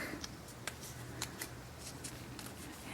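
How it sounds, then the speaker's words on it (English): Quiet, sharp snips of scissors rounding paper for a papercraft wreath, about a dozen crisp clicks at an uneven pace over a low background hum. "I'm just going to use the scissors here to give it some rounding"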